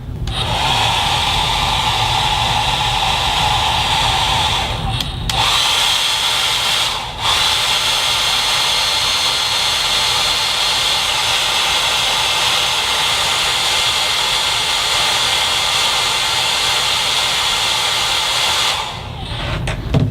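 A hot air blower heats an iPhone 5 during disassembly, blasting a loud, steady whooshing roar close by, with brief dips and cutoffs near the start and end.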